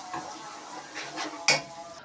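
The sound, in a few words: garlic ginger paste being browned in a pan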